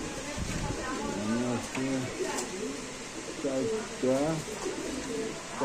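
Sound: pigeons cooing at a pigeon sale

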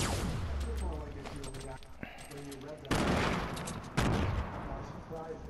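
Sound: grenade explosions in Fortnite video game

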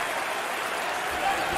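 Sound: basketball arena crowd cheering

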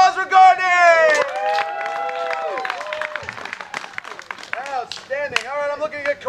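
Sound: audience applause for Courtney

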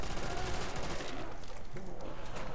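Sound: gunfire in the video game Call of Duty Nazi Zombies

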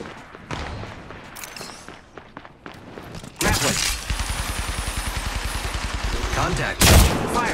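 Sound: gunfire in Apex Legends Mobile video game

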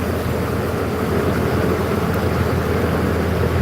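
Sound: boat engine on a river crossing

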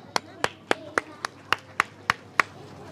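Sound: audience clapping loudly

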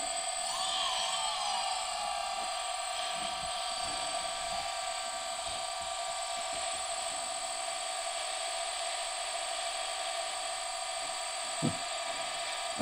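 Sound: DJI Phantom drone motors spinning without propellers

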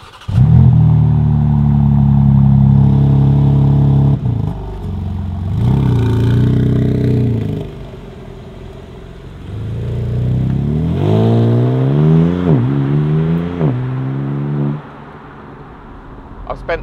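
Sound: BMW M4 Convertible Competition driving on the road

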